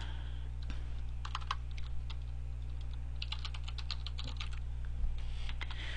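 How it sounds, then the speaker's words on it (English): A commit message being typed on a computer keyboard, a run of quick, close key clicks in short bursts over a steady low electrical hum, with no talk. "This is where we type in that message"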